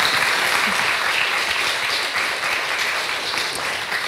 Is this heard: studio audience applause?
yes